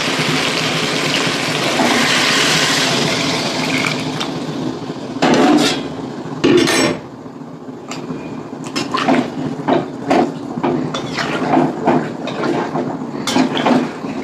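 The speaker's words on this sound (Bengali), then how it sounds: "গরম জলটা এবার দিয়ে দেবো।" Hot water poured from a pot into a curry cooking on a home stove, a steady splashing pour in the first few seconds followed by clanks and scraping of utensils.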